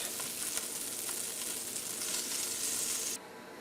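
Pork chops brown in oil with a soft, steady sizzle and faint crackles. The sound is fairly quiet and continuous until it cuts off abruptly near the end, leaving a low hiss, and no one speaks.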